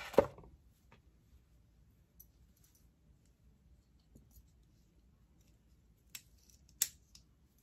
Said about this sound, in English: I'm going to cut the lace,